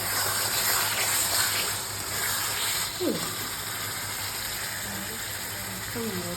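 Water poured into a hot pan of frying Bengali fish curry masala, giving a loud gushing hiss that settles into a steady boiling sizzle, with a few faint clinks and brief voices in the background.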